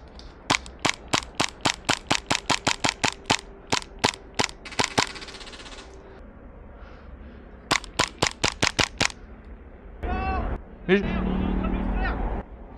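Airsoft gunfire during a skirmish game: rapid runs of sharp, close pops in quick succession, a pause, then another burst, with people talking and shouting over and between the shots.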